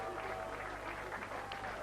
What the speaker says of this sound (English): they're on their way up now through the Cambridge team, being clapped and cheered there